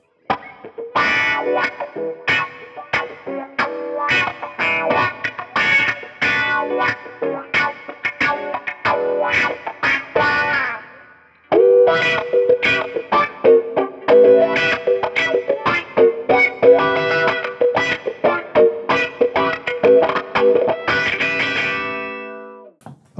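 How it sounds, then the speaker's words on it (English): Electric guitar played through a wah pedal on its H setting, clean tone, with rhythmic picked notes and chords sweeping in a vocal, filtered way, loud and alone for over twenty seconds with a brief pause midway. "And here is the wah pedal on the H setting."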